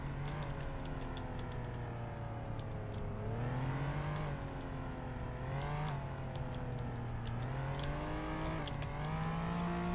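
Engine drone of a car in the video game Flashing Lights rising and falling in pitch as it passes close by, a steady whir under continuous traffic noise with no talk.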